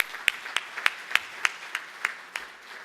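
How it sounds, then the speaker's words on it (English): Sparse, evenly spaced claps ring out at a community gathering, roughly nine distinct hand claps in a steady rhythm, close and fairly faint, fading toward the end. "a huge round of applause for everything that you do"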